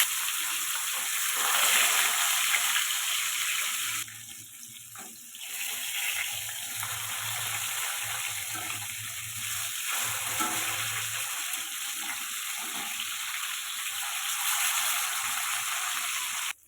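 Tilapia fish frying in hot mustard oil in a kadai, a loud continuous sizzle and crackle that dips briefly and then carries on steadily for the whole stretch.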